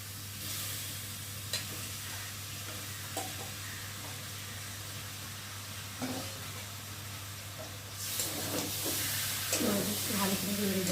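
Lote fish with spices and potatoes sizzles in a pan while being stirred, a soft steady hiss broken by scraping utensil taps, swelling louder toward the end with a voice speaking.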